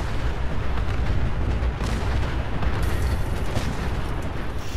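A robot self-destructing in Fallout 4, a loud continuous explosive roar with rumbling bursts rolling through it for several seconds.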